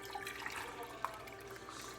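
Cups of water poured into an Instant Pot while making keto bacon cheeseburger soup, a soft, steady splashing and trickling heard faintly and close, with no one talking.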